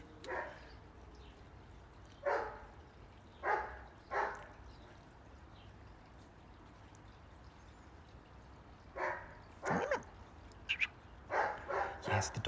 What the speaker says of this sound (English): Yes, the dog is quite distracting